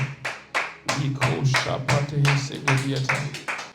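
A church congregation clapping in a steady, even rhythm to praise the Lord, dense and close, with voices singing or calling out over the claps.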